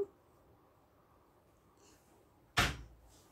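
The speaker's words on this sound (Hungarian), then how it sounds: "Az az ajtómról jött." A single sharp door bang or slam lands near the end of a quiet room, a loud close impact with a brief ringing tail, otherwise only low background hush.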